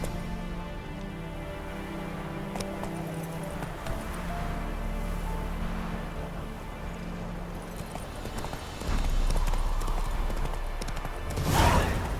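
A horse gallops in The Witcher 3, a rhythmic clip-clop of hooves running under game music and ambience, growing louder toward the end.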